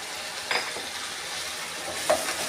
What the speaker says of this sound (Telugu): టమాటా పేస్ట్ వేగింది అల్లం వెల్లుల్లి పేస్టు రెండు స్పూన్లు